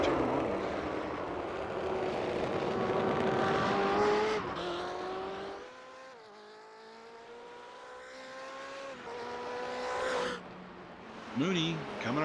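Simulated GTE race cars in a racing video game lap the Nürburgring Nordschleife, several engines droning and rising in pitch through gear changes, with tire squeal and a commentator's voice over the top.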